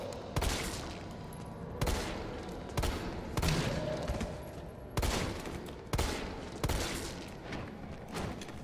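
Pistol shots ring out in the Resident Evil 3 Remake, roughly seven sharp, loud cracks spaced about a second apart with reverberant gaps between them, no talking.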